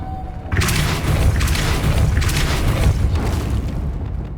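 A Depulso spell cast in the video game Hogwarts Legacy gives a sudden loud booming blast that holds as a dense, rumbling roar for several seconds, with no voices over it.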